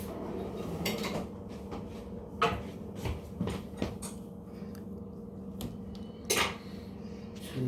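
A table knife clinks and scrapes among dishes and cutlery in a kitchen during baking preparation, with scattered close taps and a few sharper knocks over a quiet background.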